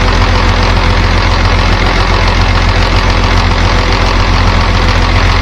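A Farmall tractor's indirect-injection diesel engine runs steadily nearby with a dense, loud knocking clatter and a constant low throb, and no voices over it.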